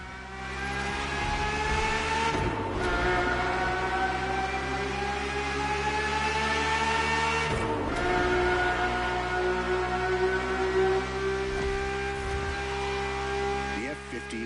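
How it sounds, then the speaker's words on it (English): Ferrari F50 normally aspirated V12 engine in The Crew Motorfest, a sustained loud mechanical drone whose pitch climbs steadily through gears, with short dips at two gear changes and a voice narrating over it. "The F50's core is a normally aspirated V12 that came straight from a Formula One."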